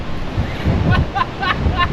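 Strong storm wind buffets the microphone over the rushing wash of Atlantic ocean waves on an open coast, with a faint voice now and then.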